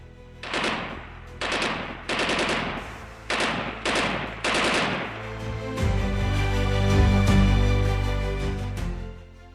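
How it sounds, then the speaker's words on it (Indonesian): Bursts of gunfire ring out in quick succession, five or six sharp volleys in a row, followed by a denser, louder rolling barrage that suggests the shooting speeding up and drawing nearer. "Beberapa detik kemudian, tembakan berikutnya menyusul, lebih cepat, lebih dekat."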